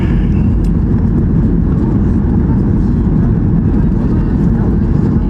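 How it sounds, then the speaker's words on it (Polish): Loud, steady airplane cabin roar with broadband rumble and hiss, no distinct changes, from inside a Ryanair aircraft descending to land at Podgorica airport, Montenegro. "obniża lot samolot"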